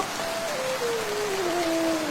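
Rain falling steadily, a dense even wash of hiss that stays loud and unbroken throughout, joined by a thin wavering tone that drifts slowly downward, with no voices.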